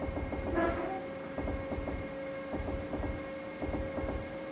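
A JR Keihin-Tohoku Line 209 series commuter train runs in the Densha de GO! 64 video game, a steady rhythmic clatter of wheels over rail joints with a constant motor hum, no voices.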